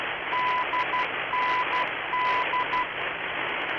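The Dundee NDB ident comes through the radio in X-Plane as a steady tone keyed in Morse code, repeating three short dash-dot groups over radio hiss.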